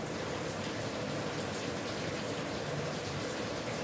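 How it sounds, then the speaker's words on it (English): Rain falls outside in a steady, even hiss of drops with no break, moderately loud and without voices. "sorry about that sound that sounds like rain. It's rain."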